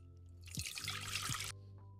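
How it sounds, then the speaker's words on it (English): Tea is poured into a cup, a short close liquid trickle lasting about a second over a low background hum. "Let's pour our tea."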